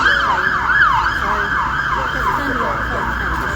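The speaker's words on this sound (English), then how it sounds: "I'm just going to wait till the fire engine goes past everyone." A fire engine siren wails in rapid repeating rises and falls, loud and close as it passes, with faint traffic rumble underneath.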